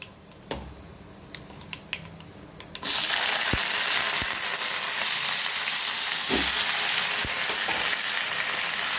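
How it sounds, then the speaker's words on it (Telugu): Eggplant pieces, soaked in water, are dropped into hot oil with tempering, and a loud continuous sizzle bursts in after a few light clicks and taps, staying close and steady with occasional stirring knocks. "ఈ వంకాయ ముక్కలు నీళ్ళల్లో తరిగి పుచ్చు లేకుండా చూసి నీళ్ళల్లో తరిగి పోపు వేగేలోగా అందులో వేసాను"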